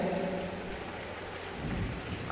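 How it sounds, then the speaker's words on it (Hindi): Heavy rain pours down in a cartoon storm scene, a steady hissing wash with a low rumble of thunder underneath and a sudden sharp burst at the very end. "इतनी बारिश हो रही है,"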